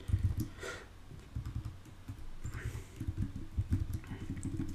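Quiet computer keyboard typing while entering a vi command at a terminal, a loose run of soft key clicks at close range with uneven rhythm, no talk.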